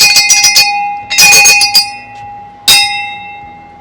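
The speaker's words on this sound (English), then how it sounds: "So this is a lookout bell." A lookout bell at Fort Metal Cross in Ghana rings loud and close in bright metallic bursts, first a quick flurry of strikes, then a second cluster, then one final clang left to ring out, with no voices.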